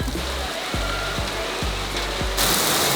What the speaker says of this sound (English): You can probably hear the rain beating off the tin roof right here.